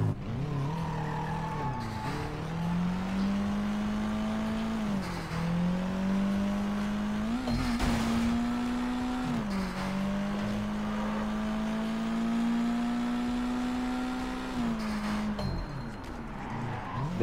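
Steady car engine drone from a vehicle driven in the Sleeping Dogs game, pitch rising and dipping with gear changes and throttle, plus occasional tire squeal, continuous and close with no talking.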